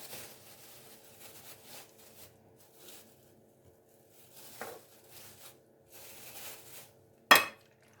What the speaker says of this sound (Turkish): Şöyle büyük bir tane servis kaşığıyla iki kaşık patlıcan koyuyorum.